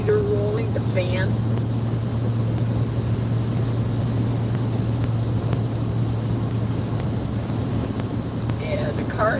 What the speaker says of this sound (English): listening to the furnace rolling, the heater rolling, the fan